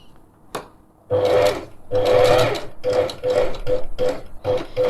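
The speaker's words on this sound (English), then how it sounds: "So that you don't break your sewing machine needle." Sewing machine stitching fabric during a simple garment alteration, starting with a single click, then loud close bursts of rapid mechanical stitching in several runs, the later ones short and evenly spaced, with no talk.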